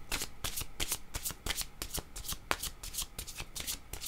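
Oracle cards shuffled by hand to draw a card, a rapid series of crisp papery riffles and flicks repeating throughout, close and clear with no talk.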